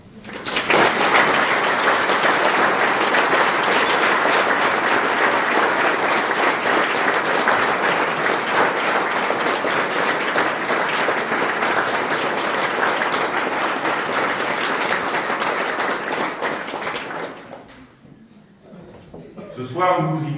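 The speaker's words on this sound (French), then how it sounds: "je vous propose de les applaudir" A formal New Year's greetings ceremony audience applauds police, rescue services and the armed forces, with loud sustained clapping from a large crowd lasting most of the time before fading out, followed by a voice.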